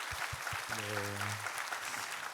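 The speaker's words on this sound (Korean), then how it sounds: "하나님께 영광의 박수 올려드리도록 하겠습니다." Congregation applauding during a Sunday church service, a dense, steady wash of clapping throughout, with a brief held voice-like tone rising above it midway.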